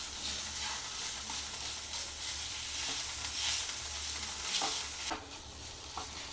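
Mushrooms mashed with cheese spread in a hot pan give a steady close sizzle with scraping and stirring strokes, and there is no talk.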